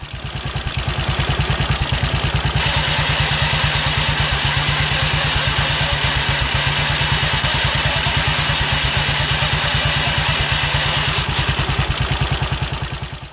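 A Matchless G3L WD motorcycle runs with a Burman CP gearbox making a transmission noise, a loud steady rapid thumping engine beat with a continuous clattering whine over it, close and without talk.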